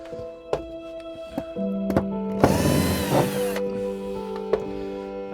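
A power drill drives a screw into wood while a first step is fitted in the transom of a trimaran. One short, loud whirring burst rises partway through against a quiet background.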